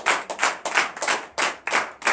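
A church congregation at a morning prayer service in Benin claps in loose bursts of applause, several waves of dense hand claps rising and falling across the room.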